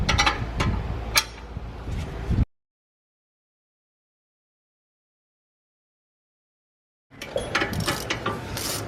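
A ratchet clicks rapidly as it loosens the front brake caliper carrier bolts on a Mercedes-Benz GLE350, close mechanical ratcheting with metallic ticks, cut by a long silent gap before more clicking resumes.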